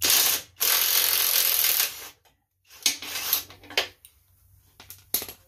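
A 200-pound impact wrench hammers at stubborn steel axle bolts set in an aluminum GT6000 transaxle, in long loud bursts of rattling impacts broken by pauses and shorter stuttering blasts.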